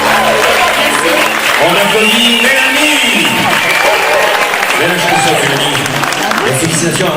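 A live audience at a French variety show applauds after a song. The clapping is dense and sustained throughout, while a voice speaks over it and some sung or spoken tones sit on top.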